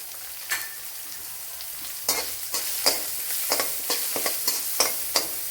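Carrot and coriander leaves fry in a hot pan for a Kerala-style breakfast, with a steady sizzle broken by sharp scraping stirs of a spoon at irregular intervals, close and without talk.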